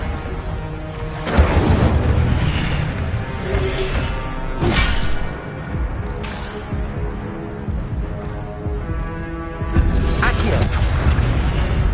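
Fire spells cast in Hogwarts Legacy produce several whooshing bursts and booming impacts a few seconds apart, over creaking, mechanical game ambience at steady loudness.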